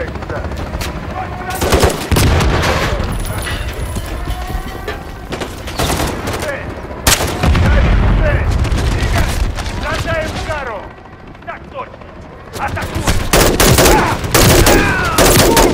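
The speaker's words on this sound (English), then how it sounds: "John got a mounted MG coming your way on an armored vehicle." Heavy machine-gun fire from a mounted MG on an armored vehicle rattles in long, loud, dense bursts with booming impacts in Call of Duty Modern Warfare 3, broken by short gaps and mixed with voices.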